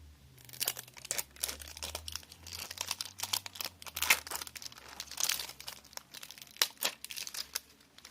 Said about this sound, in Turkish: Evet arkadaşlar bir katman daha açıyorum şu şekilde bakın.